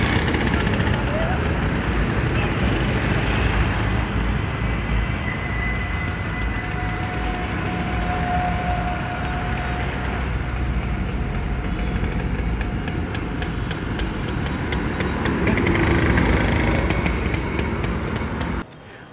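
An old scooter rides along a road, its engine giving a steady, continuous drone with wind and road noise, close and loud throughout before cutting off at the end.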